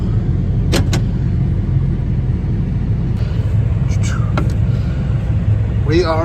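A John Deere tractor idling with its PTO engaged to drive a Nuhn Magnum manure spreader, a steady low engine rumble throughout with a few brief higher squeaks and clanks.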